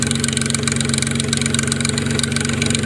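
A 2004 Nissan Maxima engine idling steadily and loudly, with a rapid rhythmic ticking and rattling clatter from a noisy timing chain running through the drone, close up.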